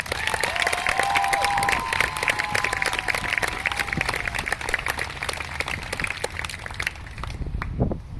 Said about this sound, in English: Can I get a round of applause for all the speakers that we've had so far?